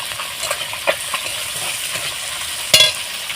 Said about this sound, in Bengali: দেখুন এইভাবে আমি একটু পেঁয়াজটাকে ভেজে নিচ্ছি